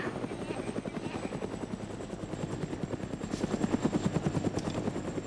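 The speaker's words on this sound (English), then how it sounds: "He's gonna destroy the chopper." A helicopter in the game Panthera flies nearby with a steady, rapid rotor chop that thumps rhythmically and grows slightly louder toward the end, with no talk over it.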